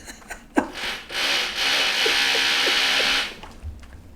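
A power drill runs upstairs in one steady buzzing whine lasting a couple of seconds, muffled and moderately loud, with faint knocks before and after.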